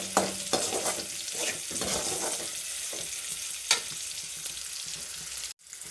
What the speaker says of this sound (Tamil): உப்பு சேர்த்ததுக்கப்புறமா நல்லா கிளறி விட்டுருங்க. வெங்காயம் நல்லாவே வதங்கி வரணும்.